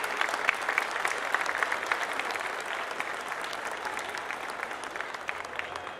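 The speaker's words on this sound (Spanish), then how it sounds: "Un fuerte aplauso." Steady applause from an audience at a school's 90th anniversary ceremony, a dense, even patter of many hands clapping continuously throughout without pause.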